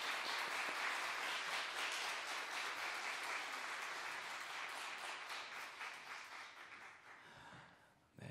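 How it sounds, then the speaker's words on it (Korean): A Korean church congregation at a Wednesday evening service gives a welcoming round of applause for the pastor, steady massed clapping that fades and thins out over about eight seconds. "우리 따뜻한 환영의 박수로 맞아주시면 감사하겠습니다"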